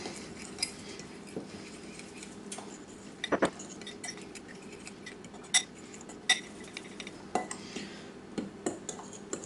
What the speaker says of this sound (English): We can take those and mix those up real well